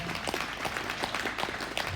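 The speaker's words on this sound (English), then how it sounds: "Let's give him a nice round of applause." A crowd at a cattle show claps for a young showman, a dense, steady patter of many hands holding at an even level for the whole stretch.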